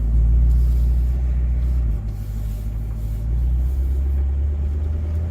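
A twin-turbo C8 Corvette cruises, its engine and road rumble forming a loud, steady low drone heard from inside the cabin, shifting slightly in pitch midway with no talking.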